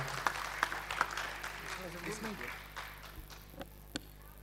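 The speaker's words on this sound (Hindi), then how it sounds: "जोरदार ताली बजाकर हम आपका स्वागत करते हैं।" An audience at a memorial seminar claps to welcome a speaker, sparse scattered claps rather than a full ovation, heard under ongoing speech.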